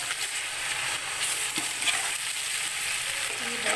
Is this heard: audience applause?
no